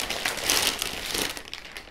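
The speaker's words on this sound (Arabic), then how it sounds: "طلع البورده من الكيس" Plastic bag crinkling as an Aorus Z370 Gaming motherboard is pulled out, a close, bright rustle lasting under two seconds without talk.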